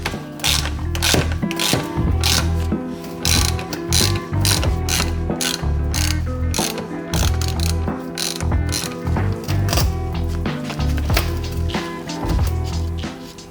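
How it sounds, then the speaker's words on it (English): A spring compressor is cranked down on a Volvo V70 D5 strut spring, giving a loud, close run of sharp, rhythmic ratchet clicks in quick repeated bursts with brief pauses between them. "now I'm just going to compress this spring so I can go and remove the top mount"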